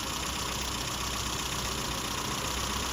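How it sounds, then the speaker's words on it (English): Classic car engine idling steadily after a new distributor was fitted and timed, a continuous, fairly loud running drone with no talk. "got it timed in, engine's running again"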